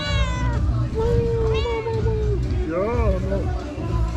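A cat meows several times close by, drawn-out rising and falling cries, while a person talks over background chatter.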